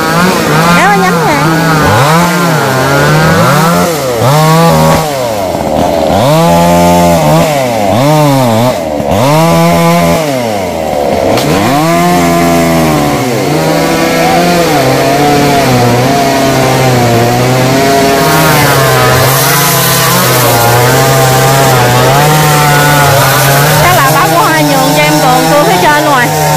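Large chainsaw cutting a rain tree outdoors, engine loud and close, revving up and down in repeated strokes as the bar bites through wood, then holding a steadier high drone.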